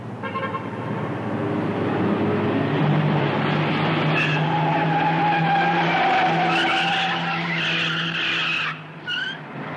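A car driven fast on a road in 1960s Stockholm, its tires skidding and squealing loudly and steadily for nearly ten seconds over a roaring engine, with a short dip near the end.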